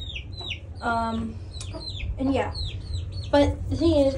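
Chickens clucking and squawking in bursts from birds roosting on a perch in a backyard coop, close and fairly loud, with a person speaking briefly between the calls.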